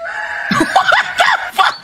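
A person imitates a rooster crowing, a rising and falling warbled call repeated in a few bursts, close and fairly loud.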